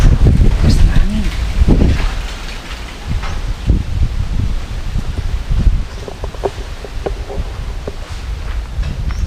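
Gusty wind buffets the microphone with low rumbling bursts in a cemetery, and leaves rustle nearby while a person speaks over the noise.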